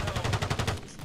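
Rapid automatic gunfire from a video game shooter, a tight burst of about eight evenly spaced shots, loud and close, ending abruptly.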